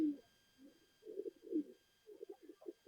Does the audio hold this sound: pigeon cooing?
yes